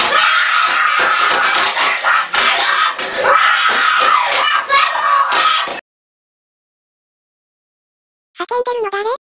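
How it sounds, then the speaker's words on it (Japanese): Several people scream loudly and continuously for about six seconds, then there is sudden silence, and a single wavering voice cries out at the end. "叫んでるの誰？"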